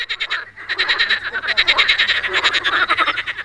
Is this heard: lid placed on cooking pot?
no